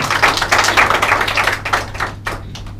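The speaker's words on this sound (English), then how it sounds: "Take a round of applause for our beautiful couple." Wedding guests at a solemnization applaud the newly married couple, a burst of close, brisk clapping that thins and fades into a few scattered claps by the end.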